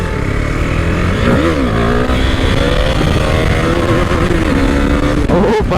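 A motorcycle engine drones loudly and close during a wheelie, its pitch rising and dipping as the throttle is worked, with a sharp rev near the end.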